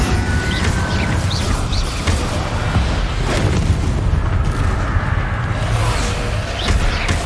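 A fire spell cast in the Hogwarts Legacy video game produces a dense, continuous roar of booming, crackling bursts with occasional whooshing flares throughout.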